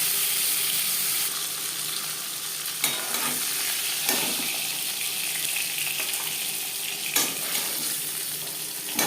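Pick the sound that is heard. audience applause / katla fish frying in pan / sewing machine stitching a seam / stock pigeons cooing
katla fish frying in pan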